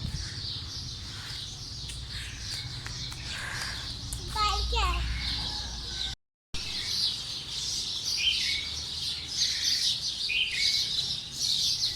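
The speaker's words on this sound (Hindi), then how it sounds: "सुबह का टाइम है और परिंदे भी चहचहा रहे हैं" Birds chirp and tweet outdoors on an early-morning walk, bright repeated calls running throughout, mixed with a voice and other talk nearby.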